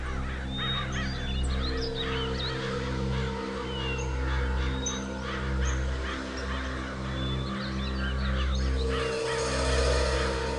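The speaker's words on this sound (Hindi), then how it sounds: "वहाँ थोड़ा पानी दिख रहा है और बहुत सारे कौवे भी मंडरा रहे हैं" Crows caw in scattered, overlapping calls over an open area near water, with a steady low hum running beneath the birds throughout.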